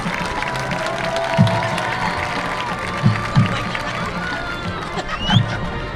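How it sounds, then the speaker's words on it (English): A football stadium crowd applauds and cheers during a homecoming court presentation, a broad, sustained roar of clapping and voices with occasional louder bumps, heard from within the stands. "Let's have a round of applause your sophomore freshman, Kinsley Olivares."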